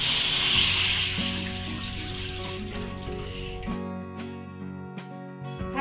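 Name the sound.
water being poured into a hot kadhai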